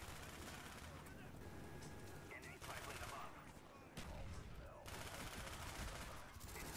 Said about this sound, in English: MP5 with the rapid fire is literal insanity